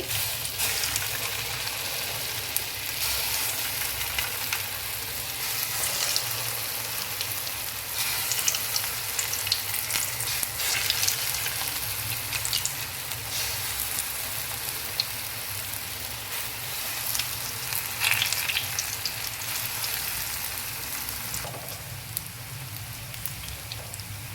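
Rasam vadas fry in oil over a medium flame, giving a continuous crackling sizzle with dense popping that holds steady for over twenty seconds, with no voices.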